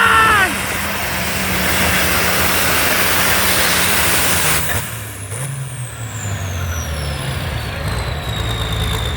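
A pulling tractor roars at a grandstand tractor pull on the Goodhue fairgrounds, a loud sustained engine blast that drops and shifts in pitch partway through as the run winds down, with crowd and announcer sounds underneath.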